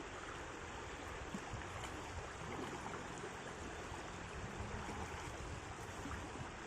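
Water streams steadily over rocks at a hidden waterfall on the route from Coimbatore to Palakkad, a constant broadband rushing with no breaks, moderately loud and alone without voices.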